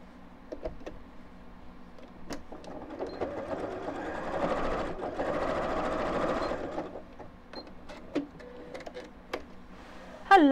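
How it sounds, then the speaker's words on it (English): A sewing machine stitches straight across fabric for a beaded purse handle, a steady mechanical whirr that builds in the middle and eases off, with scattered ticks and clicks around it. "Stick a pin in and sew straight across."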